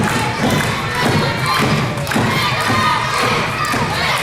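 A wrestler crashes down with a rolling back senton during a pro wrestling match, a heavy thud amid steady loud crowd cheering and shouting that fills the whole moment.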